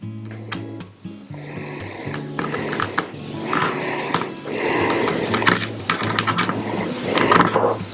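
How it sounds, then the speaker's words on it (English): A hose clamp being tightened onto a foam cannon, heard as a close series of ratcheting clicks and scraping mechanical turns, loud and fairly continuous with a few short pauses. "I'm going to go ahead and tighten down my hose clamp."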